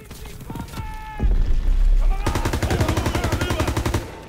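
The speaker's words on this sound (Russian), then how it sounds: "Господи, обстрел." A gunfire barrage in Call of Duty: WW2 rises from scattered shots into rapid, steady machine-gun rattle. A heavy rumble sits under it, and a voice speaks early on.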